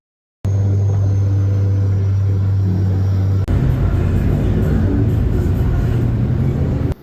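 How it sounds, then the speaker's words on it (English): A tuk-tuk carries passengers through Bangkok traffic with a loud, close engine rumble and steady road noise, the pitch shifting midway as the vehicle changes speed. "took the tuk-tuk back to the hotel"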